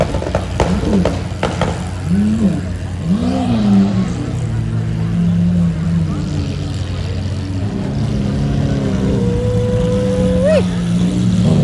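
Supercars, including a Lamborghini SVJ with an aftermarket exhaust, revving and pulling away from a car event in Barrington, engines rising and falling in repeated swells over a steady crowd background.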